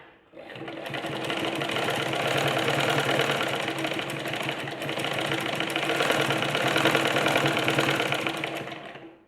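A sewing machine running continuously while stitching the finish on a sleeveless armhole, a close, loud, even mechanical whir that starts and stops cleanly.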